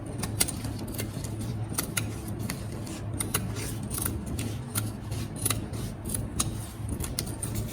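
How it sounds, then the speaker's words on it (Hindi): Scissors snip steadily through fabric strips for trousers, with a dense run of close, crisp cuts over a constant low background hum. "जो पेपर से बाहर है स्ट्रिप्स उन्हें काट दें"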